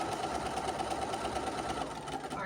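A sewing machine runs continuously while chain piecing quilt fabric, a close, steady mechanical hum with a rapid rhythmic needle patter and no speech.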